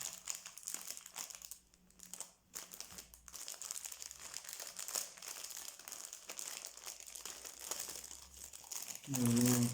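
Gift wrapping paper crinkles and rustles as presents are unwrapped, with intermittent crumpling and tearing up close and a louder crunch at the end.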